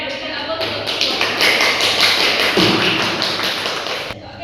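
A classroom audience claps for a student group that has just finished presenting, a dense, steady patter of many hands lasting several seconds before cutting off abruptly.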